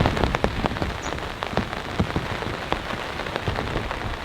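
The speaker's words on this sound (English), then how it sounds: "The intensity has really picked up and it's raining quite hard at the moment." Heavy rain pounds steadily on a The North Face StormBreak 2 tent, a dense, close, continuous patter of drops with no voices.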